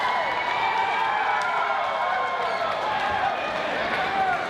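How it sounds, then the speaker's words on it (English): Wrestling crowd at a live event cheering and roaring for high-risk top-rope moves, a dense, sustained wall of crowd noise with shouts, apparently under commentary. "This crowd showing their appreciation for the high-risk moves"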